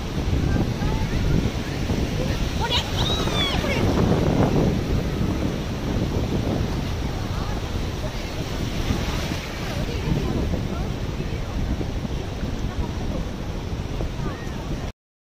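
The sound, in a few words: sea waves at high tide, Digha beach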